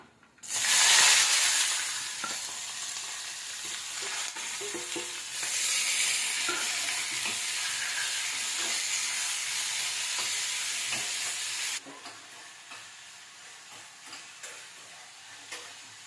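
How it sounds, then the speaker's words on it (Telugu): Chopped onions fry in oil in a pan for chicken biryani, a loud hissing sizzle that surges at the start, holds steady, then drops to a quieter crackle with faint ticking stirs, no talking. "ఇది కొంచెం ఫ్రై అయిపోయింది ఆనియన్"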